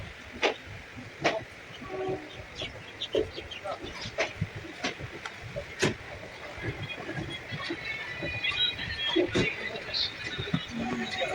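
A long-distance passenger train running from Sealdah station toward Vadodara: a rumbling carriage interior with scattered clacks and knocks, a faint whistle-like tone, and people talking throughout.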